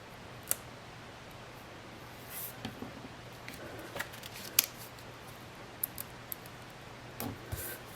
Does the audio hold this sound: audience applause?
no